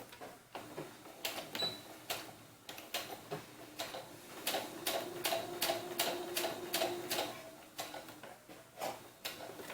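A home sewing machine sews a doll bun maker on a 450 stitch, a rapid mechanical ticking that speeds up into steady bursts of stitching, moderately close and clear with no talking.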